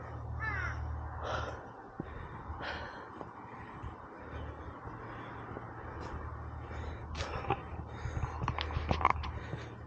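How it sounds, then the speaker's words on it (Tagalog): Crows caw repeatedly in a forest, their harsh calls scattered and moderately distant over a steady background hum, with a few closer cries near the end. "Mga ibon yan."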